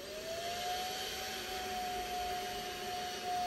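A handheld vacuum cleaner with an attachment runs steadily while dusting windows, giving a continuous close whine with a sustained tone and broadband airflow hiss.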